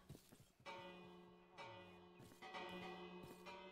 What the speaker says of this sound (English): you know when the bell rings you're meant to go in the house